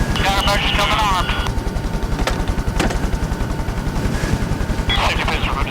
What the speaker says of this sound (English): They're shooting at us, right?